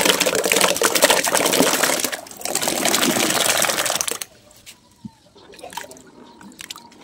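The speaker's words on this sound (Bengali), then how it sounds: "এখন এই বালতির ভিতরে লিচুগুলা কিন্তু ধুয়ে নেব।" Fallen lychees are washed in a bucket of water, with loud close sloshing and splashing for about four seconds, then the water drops to faint drips and small splashes.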